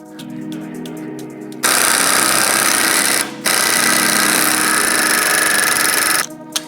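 An impact wrench fitted with a chrome socket hammers in two loud, rattling bursts with a brief break between them. It is close and harsh, with quieter mechanical clatter before and after.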